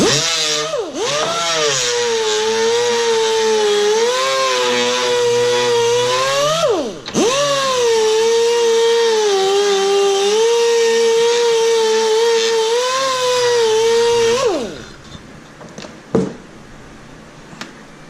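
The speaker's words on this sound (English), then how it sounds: "I'm running this angle drill at about 50 psi" A pneumatic angle drill running at about 50 psi, polishing horse trailer trim, whines loudly and steadily with a high-pitched hum, briefly dipping once, then spins down and stops, followed by a few light clicks.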